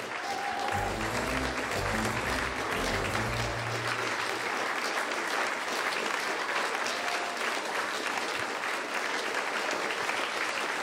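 An audience at a children's dance company performance claps in sustained, dense applause, loud and steady for the whole stretch, with a few voices and low rumbles rising briefly near the start.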